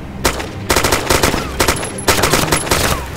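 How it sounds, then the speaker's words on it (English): Automatic gunfire in the military shooter game Arma 2: loud, rapid bursts of machine-gun fire separated by brief gaps, close and dominant throughout. "Why are you shooting your teammate?"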